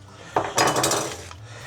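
A metal frying pan picked up and handled in a kitchen, a brief clattering scrape of pan and cookware against metal, close and clear, with no talk.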